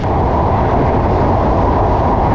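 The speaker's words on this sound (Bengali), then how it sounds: "এই ট্রেনে ভ্রমণ করলে প্রচুর সাউন্ড শোনা যায়" An express train rumbles steadily along new rails on the Khulna–Dhaka line, a loud continuous low roar with rattling throughout, close and unbroken.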